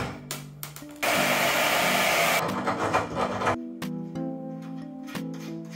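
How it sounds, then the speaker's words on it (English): A power saw runs loud and steady for about two and a half seconds, then winds down, while cutting during a desk slide-rail install; handling clunks come before and after. "Here's the saw."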